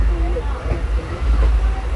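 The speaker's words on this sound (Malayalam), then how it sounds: "ശരിക്കും ഇത് ഭയങ്കര സ്ലോ മൂവിങ് ട്രെയിനാണ്" A slow-moving passenger train on the line out of Londa Junction toward Belgaum, a low steady rumble of wheels and carriage noise, continuous and close, with faint voices in the background.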